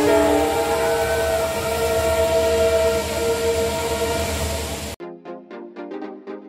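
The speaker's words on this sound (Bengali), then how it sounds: "সবুজ পাহাড়ের গা বেয়ে নেমে আসছে দুধসাদা জল, মাঝে একটি ব্রিজ, এরই মধ্য দিয়ে ছুটে চলেছে ট্রেন" Train crossing the bridge at Dudhsagar Falls in Goa: a loud, sustained horn blares over heavy rolling rumble for several seconds, then cuts abruptly to a quieter run of short tonal pulses.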